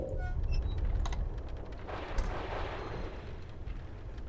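A force bolt spell in Quest for Glory V lands as a muffled, rumbling blast with a short crackling burst in the middle, set over a low game background and a few brief chimes.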